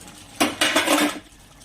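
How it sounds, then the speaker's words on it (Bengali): A metal lid lifted off a pot of simmering katla fish curry, with two quick clanks of metal on metal and a brief rattle, then quiet. "10 মিনিট পরে ঢাকনাটা খুলে নিলাম।"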